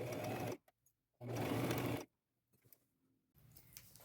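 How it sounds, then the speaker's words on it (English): A sewing machine runs a straight stitch with a quarter-inch seam allowance, joining the pinned armholes of a hooded ruffled duster. The motor whirs in two close, fairly loud bursts separated by a short quiet pause. "I am going to sew them together with a straight stitch and a 1/4 inch seam"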